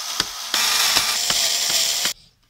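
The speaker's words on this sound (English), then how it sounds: "So you just simply lift the cover and unscrew to remove the wall stand." Wall stand being unscrewed from a Dell OptiPlex 3030 all-in-one computer: a continuous close ratcheting screwdriver whir with several sharp clicks, stopping abruptly near the end.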